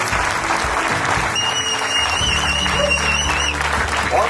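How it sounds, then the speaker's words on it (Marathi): Loud, sustained applause from an audience in a hall at a corporate gathering, dense clapping throughout with a bright whistle-like tone sounding over it midway. "तर सरांसाठी जोरदार टाळ्या होत्या."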